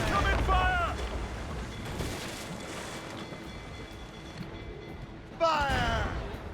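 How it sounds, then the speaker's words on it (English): Ship cannon volley in Assassin's Creed Rogue: deep booming blasts and rumbling at sea, with distant crew shouts and voices overlapping the firing. "They are firing a volley!"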